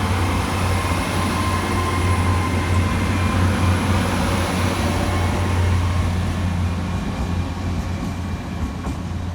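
A Great Western Railway class 802 train departs a station, giving a loud, continuous rumble with a deep engine drone and a thin high whine that holds steady as it pulls away.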